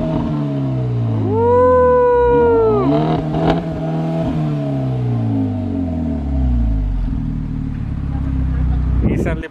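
A 2016 Hyundai Genesis with a new exhaust revs up, its engine note rising and falling in a loud sweep near the listener, with voices talking over it.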